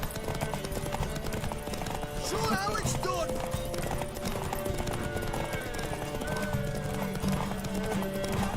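Steady clip-clop of galloping horse hooves in The Witcher 3: Wild Hunt runs throughout, mixed with a brief whinny and game effects, while someone talks over it.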